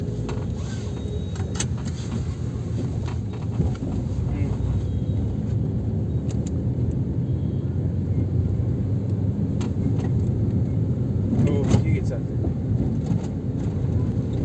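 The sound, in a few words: manual car driving on road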